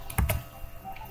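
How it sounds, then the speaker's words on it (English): A password being typed on a computer keyboard: a short burst of a few quick, close key clicks, then quieter taps. "After entering this command, press enter and then type in your password."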